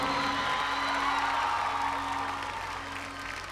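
A concert crowd in Treviso applauds and cheers, a broad wash of clapping with a few whoops over a steady tonal hum, gradually fading toward the end.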